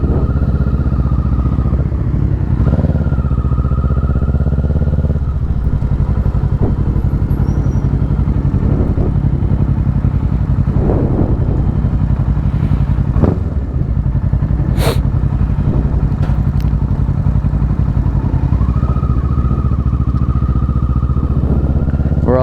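A 2024 Kawasaki Ninja 650 on a group ride with mixed bikes, its engine droning loud and close throughout, rising and falling with shifts and throttle changes, under steady wind rush.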